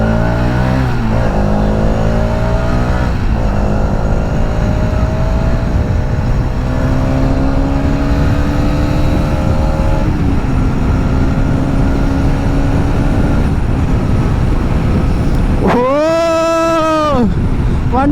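A brand-new Hero Xtreme 250R 250cc motorcycle ridden through city traffic, its engine droning loudly and rising and falling through the gears under heavy wind noise, with a quick sharp rev near the end.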